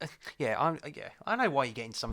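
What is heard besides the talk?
None of the usual background noises is heard.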